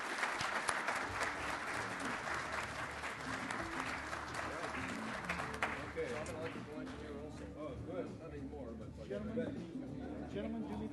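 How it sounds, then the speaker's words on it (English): Audience at a conference ballroom session applauds the speakers, a dense steady clapping that holds for the full stretch, with scattered voices and murmuring mixed in toward the end. "Let's give our speakers one final round of applause."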